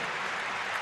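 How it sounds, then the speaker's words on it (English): Loud, sustained applause from a football stadium crowd rising for a departing great at Bayern Munich versus Freiburg, a dense uniform clapping roar heard briefly. "The entire stadium as one rises to applaud an absolute great of recent football history"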